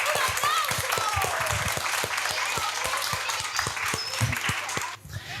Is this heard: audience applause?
yes